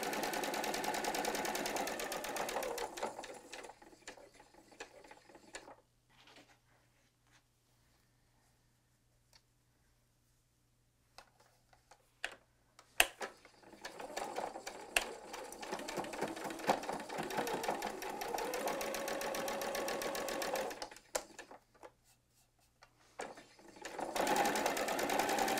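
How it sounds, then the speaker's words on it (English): Sewing machine stitching quilt fabric, running in steady whirring stretches broken by near-silent pauses and a few isolated clicks, close and fairly quiet. "I remember where that 1/4 inch is on this with this presser foot."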